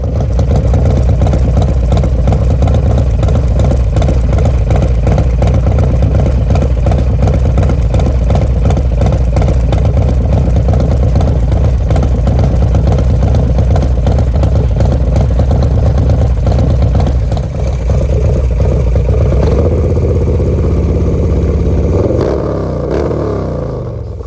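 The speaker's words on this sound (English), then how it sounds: "I'll burn in a little sound clip of a nice warm idle for you guys." A Harley Road Glide's 124-inch twin cam engine idles warm with a loud, close, lumpy rhythmic thump, steady for most of the stretch before the beat shifts and eases off toward the end.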